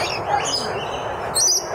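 Birds chirp and call at a zoo, a steady stream of high tweets over the full short stretch, with a louder burst of chirping near the end.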